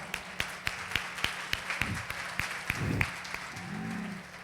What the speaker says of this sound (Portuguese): Uma salva de palmas para Jesus, vamos lá.